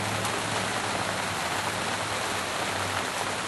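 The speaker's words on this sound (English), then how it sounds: "And if y'all hear that rain, it's because it is raining." Steady rain falling outdoors at a competition pork barbecue cook, a dense even hiss holding constant throughout with no voices.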